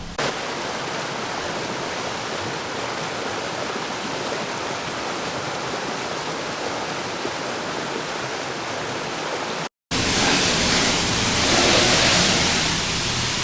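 Steady high-pressure water spray blasting over a Tesla Model 3 at a car wash, a dense continuous hiss that shifts abruptly to a brighter, louder jet after a brief cut.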